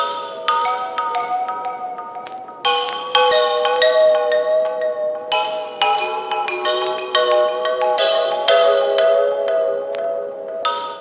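A synth-based music loop with harsh, piercing frequencies plays alone in repeating bars of bright, dense chords and sharp attacks, loud and steady throughout.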